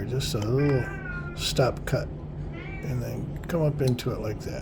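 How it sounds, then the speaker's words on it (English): A house cat meows several times in a row, close and fairly loud, its calls interleaved with a person talking quietly during a woodcarving session. "Sorry about my cat again."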